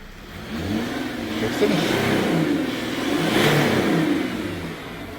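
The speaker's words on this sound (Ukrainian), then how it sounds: "гарний звук роботи двигуна" A Mercedes W211 car engine idles and then revs up, a steady mid-pitched drone that rises and swells twice, heard up close.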